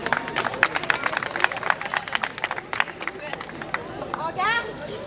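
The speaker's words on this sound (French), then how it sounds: "On peut applaudir Cyril Ulrich" Spectators at a fencing bout clap in a scattered, uneven round of applause, sharp individual claps over a low murmur of crowd chatter.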